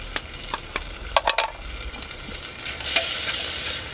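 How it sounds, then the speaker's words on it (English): Leafy greens frying in a pan over a settlers-style cooking fire on a remote Australian coast, with scattered crackles and stirring scrapes building into a louder sustained sizzle near the end, close by and without talk. "So here are my greens. I'm going to fry them first."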